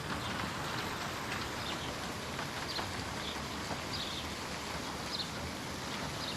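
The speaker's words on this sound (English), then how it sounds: "On the experience of hearing rain falling." Rain falls steadily and softly in a virtual reality scene, an even wash of patter with scattered brighter drops throughout, faint and unbroken with no voices.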